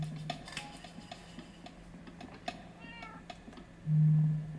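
A cat in modded Minecraft lets out a short, loud meow near the end, after a stretch of quiet ambience broken by scattered faint ticks and clicks.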